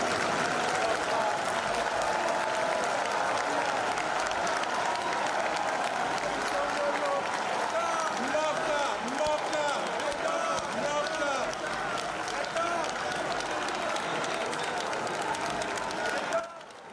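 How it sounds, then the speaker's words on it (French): Thunderous applause fills a hall in the Democratic Republic of the Congo as the supreme magistrate enters a ceremony for new magistrates. A large crowd claps steadily and densely, with a voice audible over the noise. "dont l'entrée dans la salle a provoqué un tonnerre d'applaudissements"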